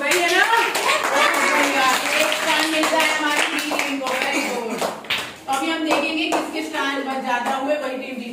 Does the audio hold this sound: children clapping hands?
yes